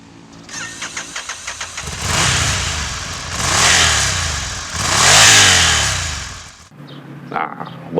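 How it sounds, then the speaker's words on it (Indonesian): A 2016 Ducati Scrambler Icon motorcycle engine cranks and catches, then is blipped through three loud, rising revs that swell and fall back, ending in a rough, uneven idle. "Anda menyalakan kontak, mendengarkan mesin, dan menggeber gasnya"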